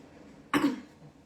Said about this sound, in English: Excuse me, I've got a bit of a cough